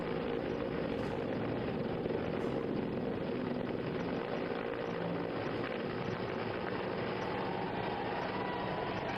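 An Indian Air Force rescue helicopter hovers near a dam in Jammu, making a loud, steady rotor and engine roar that fills the whole stretch with no breaks and no voices.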